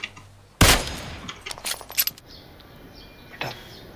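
Gunshots in the video game PUBG Mobile: one loud sharp shot followed by a quick scatter of fainter cracks and clinks, then a lone later report, over a quiet game backdrop.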